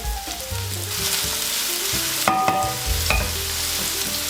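Chopped carrot and scallion fry in a pan for a Sicilian baked pasta, a close, continuous sizzle broken by scraping stirs and a couple of sharp utensil clinks; no talking.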